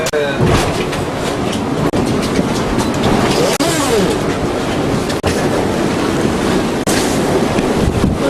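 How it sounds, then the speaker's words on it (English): Strong gale wind of about 42 knots sweeps over a Gemini catamaran at sea, a loud, continuous roar of wind buffeting the microphone with rushing waves and occasional sharp knocks. "we got about 42 knots of wind now"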